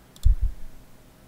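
A couple of quick mouse clicks, close and dry, a sharp tick followed by two low soft thumps, then quiet room tone.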